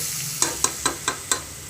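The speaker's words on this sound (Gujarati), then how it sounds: "ડુંગળી નાખીશું। તેને હલાવીશું।" Onions frying in a pan are stirred, producing five evenly spaced scraping clinks of a utensil against the pan over a steady background sizzle, close and moderately loud with no talking.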